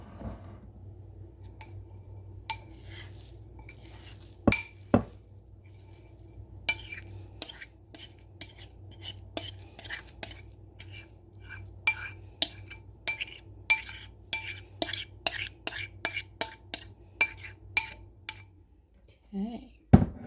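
A spoon scrapes and taps against a casserole dish while stuffing mix is spooned on top, giving a string of sharp clinks and soft scrapes at an uneven, quickening pace, close and alone.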